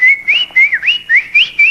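A person whistles a lively tune close by, about seven short clear phrases with quick upward and downward slides, loud and alone with no talk.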